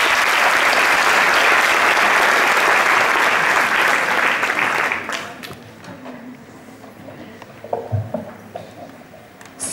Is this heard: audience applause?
yes